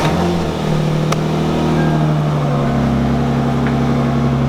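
A Lexus IS300 recently swapped to a manual gearbox cranks and fires up, settling into a loud, steady engine drone close by with a slight pitch change partway through.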